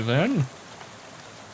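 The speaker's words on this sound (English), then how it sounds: "So how about this rain" Rain falls in the video game Shadows Over Loathing as a soft, steady hiss, with a voice speaking briefly at the start before the rain continues alone.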